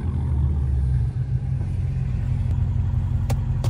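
A Dodge Hellcat's engine rumbles deep and steady while downshifting on a late-night drive, a close, continuous low drone with a couple of faint clicks near the end.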